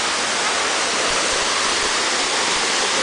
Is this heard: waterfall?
yes